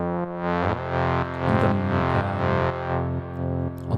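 Moog Subsequent 25 analog synth played duophonic, two tones sounding together in a sustained, harmonically rich line with distorted, effected timbre, pitches shifting every half second or so, loud and continuous with no talking.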